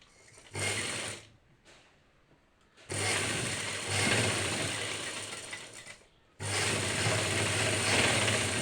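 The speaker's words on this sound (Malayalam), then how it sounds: "കറക്റ്റായിട്ട് വെച്ചുകൊണ്ട് നമുക്ക് ഈ പീസ് സ്റ്റിച്ച് ചെയ്തെടുക്കാം" A sewing machine stitches a cross piece onto fabric in three whirring runs: a short burst, then a long steady stretch, then another sustained run after a brief pause. The rapid mechanical chatter is close and loud, with no talking.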